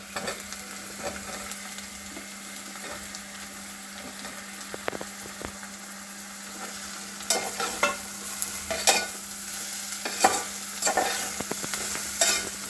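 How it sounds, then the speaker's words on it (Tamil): Mushrooms sizzle in a hot pan while a utensil stirs and scrapes, the clatter growing more frequent toward the end; no talking. "அப்படியே மிக்ஸ் பண்ணிட்டே மஷ்ரூம் கொஞ்சம் தண்ணி விடும்."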